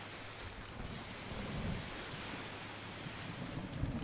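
Steady rain during a thunderstorm in The Legend of Zelda: Breath of the Wild, a faint, even hiss with low rumbling underneath and no talking.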